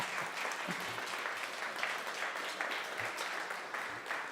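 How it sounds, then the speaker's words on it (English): An audience applauds at a talk, a steady burst of mixed clapping from many hands that carries on without a break for a few seconds, moderately loud with no voice over it. "Thank you for those of you who applauded."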